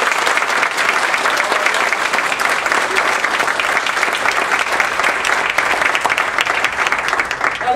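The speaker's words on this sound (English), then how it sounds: "Let's give these guys a round of applause." An audience breaks into steady, sustained applause at a leadership training seminar, a dense wash of clapping that holds at an even level for the whole stretch with no voices.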